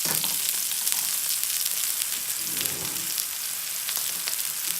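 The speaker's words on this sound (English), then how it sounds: "You're gonna hear that nice sizzle." Steak searing in olive oil in a pan, a constant bright crackling sizzle with small pops, close and steady throughout, no talk.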